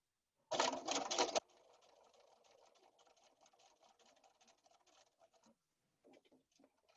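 A sewing machine stitches quilt blocks with pins, opening with a loud rapid burst of stitching, then a quieter, ticking, uneven run of slow stitches, and a few faint clicks after a brief pause.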